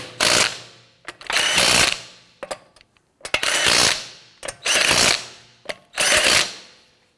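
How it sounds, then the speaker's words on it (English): A ratchet wrench tightens the lug nuts on a 2017-2020 Hyundai Elantra wheel in four loud, close bursts of rapid clicking, with short metallic clinks between them. "Go ahead and torque down your lug nuts to 85 foot-pounds."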